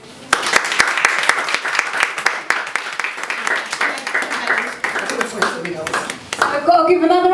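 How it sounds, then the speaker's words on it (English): An audience at a World Poetry Day event claps after a poem is read, with distinct individual hand claps building into busy applause before fading, and a voice speaking briefly near the end. "I've got to give another round of applause."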